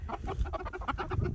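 Silkie chickens clucking softly in a quick, close run of low murmuring calls.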